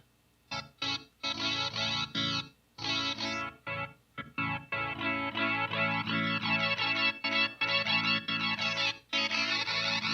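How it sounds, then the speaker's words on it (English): Distorted electric guitar run through a Chase Bliss Onward glitch/delay pedal, the sound repeatedly chopping out with abrupt mutes and cuts before surging back. "You're going to hear these weird mutes and cuts out."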